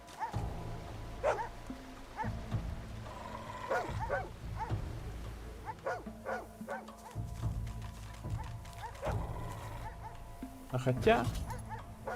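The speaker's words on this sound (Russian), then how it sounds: "Собаки на меня гавкают, походу." Dogs bark and yip repeatedly in the fantasy role-playing game Divinity: Original Sin 2, with sharp, mid-distance barks scattered throughout while a person talks over them.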